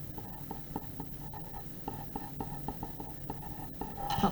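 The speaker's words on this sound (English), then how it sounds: "So I'm going to write that down here." Maths working is written by hand with pen on paper, giving soft, steady scratching strokes close up with small taps, and no voice.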